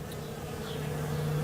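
Honeybees in New England in March bring in pollen at the hive entrance, making a steady close droning buzz that is alone and unbroken.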